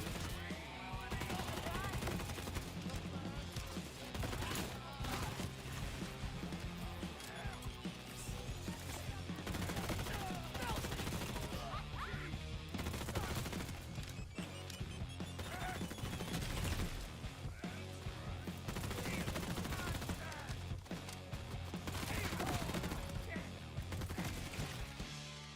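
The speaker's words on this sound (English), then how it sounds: "You see those explosions there? That's the Star Helix special effect that just isn't documented anywhere." Star Helix special effect explosions and weapon fire in a video game, a dense, continuous barrage of rapid gunfire and blasts running unbroken for the whole stretch at steady high loudness.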